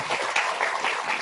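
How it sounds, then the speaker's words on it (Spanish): Audience applause at a teachers' professional-identity forum, a dense, steady patter of many hands clapping close by for just over a second, with no talking. "Fuertes aplausos"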